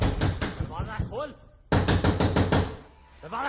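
Rapid, heavy knocking and pounding on a door comes in two forceful bursts, with people shouting over and between the blows.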